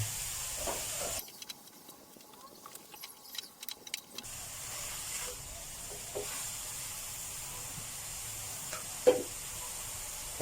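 Quiet sizzling from straw mushrooms stir-frying in a pan, a louder burst of crackle early on, with occasional light clinks of a utensil.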